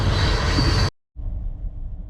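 A train rumbles loudly past, breaking off briefly before a slightly softer stretch of rolling wheel noise resumes nearby.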